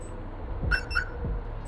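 A 1996 truck's remote lock gives two quick, high electronic chirps in close succession while unlocking, fairly faint over a low background rumble.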